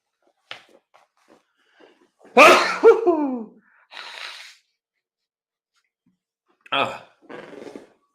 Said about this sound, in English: I'm just going to maybe blow my nose.